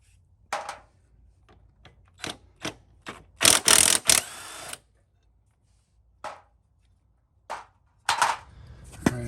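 A ratchet with a 14mm socket works on a Honda HR214 lawn mower, giving scattered sharp clicks and several short bursts of rapid ratcheting. The sounds are close, with quiet gaps between them.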